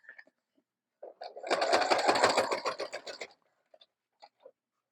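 A sewing machine quilting through a journal runs in a steady rapid stitching chatter for about two seconds, framed by a few short clicks and taps before and after.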